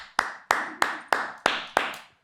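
Six sharp hand claps ring out close by at a steady, slightly slow rhythm, each with a short room echo, followed by silence.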